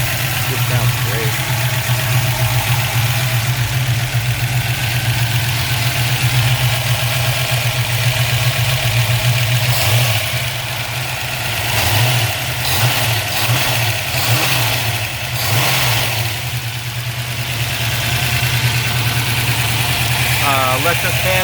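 A restored 1970 Plymouth Cuda with a 426 HEMI V8, big headers and dual exhaust, holds a deep, loud idle, then revs several times midway before settling back to a steady rumble.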